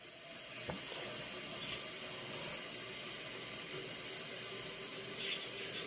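Cold tap water pours steadily into a glass flower globe, a continuous close hiss and rush of filling liquid with no voices.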